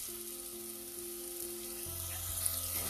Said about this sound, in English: Now I have increased the flame to medium and then started adding these onions.